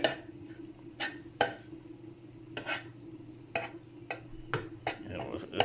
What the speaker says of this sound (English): Saute the garlic and bring the flavor out.